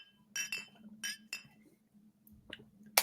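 Looped sound effect of drinking glasses clinking in a cheers toast, several bright separate chimes spaced irregularly over a low steady hum, no voices.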